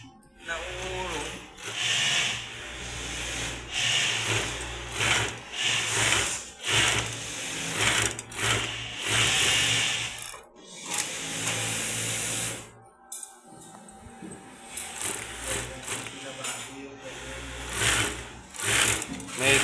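A Jack JK1500C-UT high-speed cylinder interlock sewing machine, its trimmer needing adjustment, runs in repeated short bursts, whirring stitches starting and stopping with brief pauses between, while a voice talks over it.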